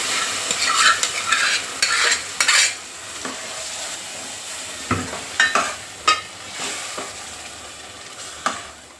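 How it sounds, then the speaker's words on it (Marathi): Bean pods fry in oil in a pan, a faint sizzle under repeated scraping strokes of a spoon stirring them, with irregular clinks of metal on the pan. "आणि शेंगा चांगल्या अशा फ्राय करून घ्यायच्या तेलामध्ये."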